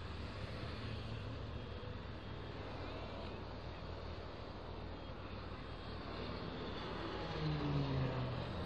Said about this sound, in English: never seen a plane that low around here before